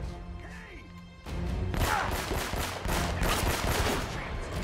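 Gunfire in the video game Uncharted, with dense, rapid bursts of automatic shots and crashing impacts that start abruptly after a quieter opening and continue loud and sustained.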